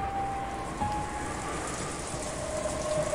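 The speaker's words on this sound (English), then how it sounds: "everyone listened to the sound of the wind and the rain" A wind and rain sound effect from the Umineko visual novel: steady, dense rainfall hissing on surfaces with a low rumble of wind underneath, continuous and even in level, with no voices.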